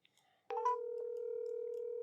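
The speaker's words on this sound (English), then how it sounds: "It's ringing." A telephone call over speakerphone: after a brief click, a steady electronic ringing tone holds continuously for well over a second at moderate loudness, with no voices.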